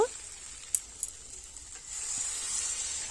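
Water poured onto a sizzling, well-fried curry base for a thin Bengali fish curry with tengra fish and kohlrabi: a faint, quiet pan with a few light clicks, then a soft steady hiss swelling up.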